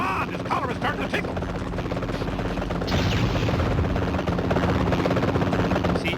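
Helicopter rotor drone in the Spider-Man 3 PSP video game, a steady low thrum that swells louder halfway through, mixed with game effects and a voice.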